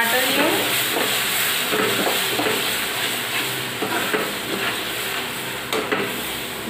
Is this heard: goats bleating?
no